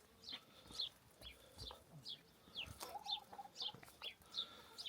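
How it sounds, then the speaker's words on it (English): Chickens cluck softly and repeatedly in short bursts, faint and a little distant, with no one talking. "chickens."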